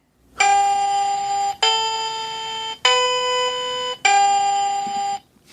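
Four evenly spaced electronic chime tones from a phone clock app, each a bright sustained bell-like note of about a second with short gaps between, clear and close with nothing else heard.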